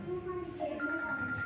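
An audience member's mobile phone rings during a product-demonstration speech, sounding as a steady electronic melody of sustained tones with a faint murmur of room noise underneath.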